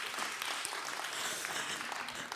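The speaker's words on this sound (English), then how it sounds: "Just like a big round of applause for this woman." Symposium audience applauding a speaker, a soft, distant, continuous patter of many hands clapping without voices on top.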